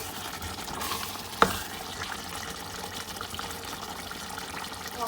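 Masala for restaurant-style Madrasi chicken biryani fries quietly in a pot as green chillies and lemon go in, a faint steady sizzle with one sharp utensil clack, close by and without speech.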